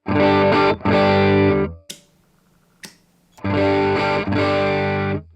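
Heavily distorted electric guitar chords through a LAMB overdrive pedal ring out in two bursts, separated by a brief pause with faint hum and a couple of clicks.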